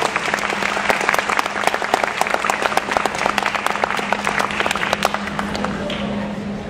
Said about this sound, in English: One more round of applause for Mr. Andrew Bell.